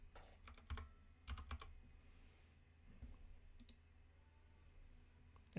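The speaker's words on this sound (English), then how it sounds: "You just type to Google Windows 11" Keystrokes on a computer keyboard come in a few short clustered bursts near the start, then fade to a quiet hum with sparse isolated clicks; no one talks.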